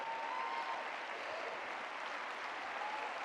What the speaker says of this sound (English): And it's all nice to clap